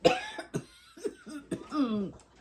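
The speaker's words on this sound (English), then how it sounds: "I'm gonna go have a coughing fit" A string of harsh, throaty coughs, five or six in quick succession, close up and loud.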